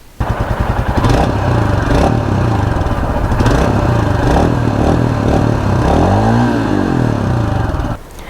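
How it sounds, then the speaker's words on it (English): Royal Enfield Himalayan single-cylinder motorcycle engine thumps at a loud, close idle with repeated blips of the throttle, revving up and dropping back several times before cutting off near the end. "today I'm taking out the Royal Enfield Himalayan. Let's give it a little sound test."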